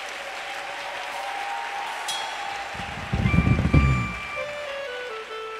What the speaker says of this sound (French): J'ai dit applaudissez pour les mères.